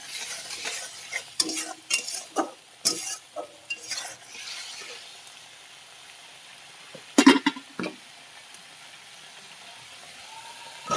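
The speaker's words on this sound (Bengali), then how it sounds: "তারপর ভালো করে মশলাটা কষিয়ে নেব।" Spice masala with cumin powder sautéed and stirred in a pan, a series of loud scraping stirs and clanks of the spoon against the pot over a low sizzle, pausing midway before another burst of stirring.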